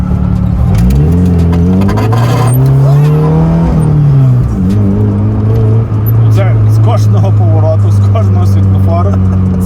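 An Opel Corsa A GSi hot hatchback engine revs hard and accelerates with rising, roaring pitch sweeps, loud and close, with voices talking over it.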